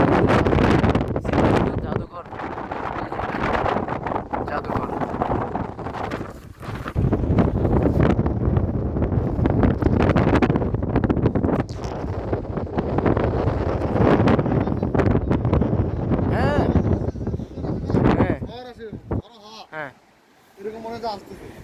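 Strong wind at a seaside in South Korea buffets the microphone with loud, continuous low roaring gusts, while people talk through much of it.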